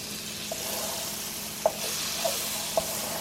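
Butter melting over onions in a frying pan gives a steady, soft sizzle, with a few brief clicks standing out above the hiss.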